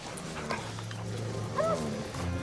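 Dog whimpering in a drama film scene, a brief high-pitched whine rising and falling over a low outdoor rumble and faint footsteps.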